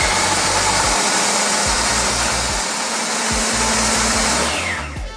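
A blender whirs loudly and steadily, mixing a jerk sauce of hot peppers and scallions, with a low pulsing chop underneath before the motor winds down at the end.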